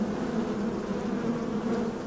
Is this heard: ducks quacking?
no